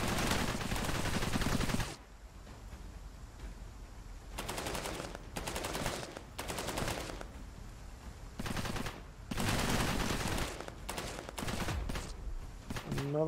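Repeated bomb blasts in Cepheus Protocol, a pandemic-mode war game, come as long loud broadband bursts separated by short lulls, with heavy booms recurring across the scene.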